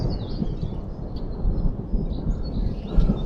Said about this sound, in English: and we do have some thunder.